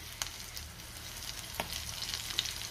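Stuffed green chillies frying in a covered pan, a soft steady sizzle with a few faint crackles and pops.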